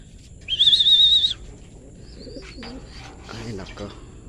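Racing pigeon gives one clear, fairly close call of under a second, followed by quieter, murmured sounds against low background noise.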